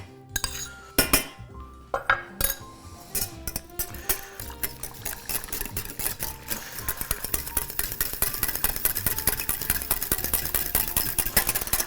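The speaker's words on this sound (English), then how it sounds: "just whisk in your butter" A whisk beats butter into braising liquor in a pan, starting with scattered clanks and then settling into a fast, steady metallic tapping that grows denser and louder.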